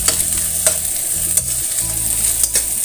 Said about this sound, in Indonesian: setelah panas minyaknya, masukkan bawang merah dan bawang putihnya. Setelah itu sekalian kita campurkan tempenya.